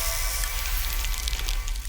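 Freezing frost effect from the Crystaline Motion Sparkles pack: a bright, glittering crackle with light raindrop-like ticks over a low rumble, steady and continuous for about two seconds.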